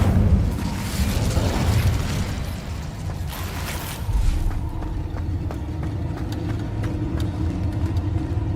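The Incendio fire spell in Hogwarts Legacy bursts out with a roaring whoosh of flame and rumbling booms, followed by a crackling, clattering tail of small pops.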